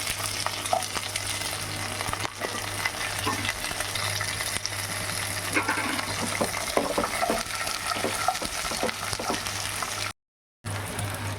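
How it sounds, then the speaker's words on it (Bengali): Potatoes, red lentils and white amaranth stems fry in oil with five-spice seeds, producing a dense, even sizzle with occasional stirring clicks and a low steady hum beneath, broken by a brief gap near the end. "প্রথমে আমি তেলের মধ্যে পাঁচফোড়ন দিয়েছি, আলু দিয়েছি আর মসুর ডাল, এটা আমার ভাজা হয়ে গেছে"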